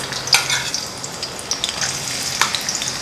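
Chopped onions frying in ghee in a pan, a steady broadband sizzle with scattered crackles and a few spoon scrapes, close and fairly loud, no talking.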